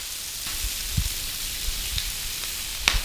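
Chicken wings frying in oil on a Blackstone griddle give a steady, moderately quiet sizzle, with a few soft scraping and tapping knocks of a spatula scattered through.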